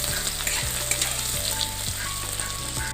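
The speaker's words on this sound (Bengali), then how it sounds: "পেঁয়াজটা ভালো করে ভেজে নেব" Onions and slit green chillies frying in oil for ghugni, a steady dense sizzle with occasional low knocks of a spoon against the pan, running continuously and fairly close.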